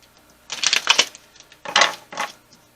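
A deck of numerology cards is riffle-shuffled during a tarot reading: two quick papery bursts of flicking cards, close to the microphone, with brief quiet between them and no talking.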